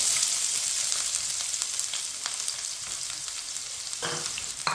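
Finely chopped onion sizzles in two spoons of hot oil, a close, steady crackling hiss with a brief scrape of stirring near the end, no talking.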